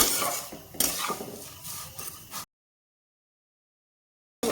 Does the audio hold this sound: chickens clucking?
no